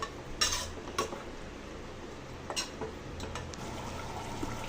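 Mutton masala stirred in a pan: a quiet, steady background of low frying with a few sharp metallic scrapes and clinks of a spoon against the pan.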